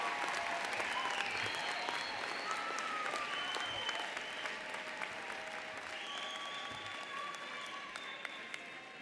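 An audience at a university commencement ceremony applauds its graduates, with sustained, even clapping heard from a distance in a large hall, and faint whistles or cheers over the top.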